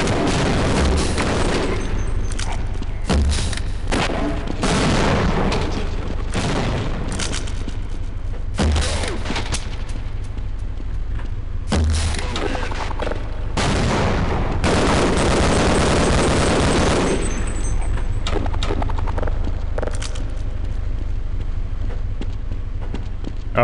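Rapid bursts of gunfire and booming blasts from the video game Half-Life, loud and close, firing in repeated volleys with brief pauses across a long stretch of combat.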